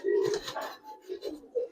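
Giribaz and colouring pigeons coo in a few soft, throaty bursts, close by and alone.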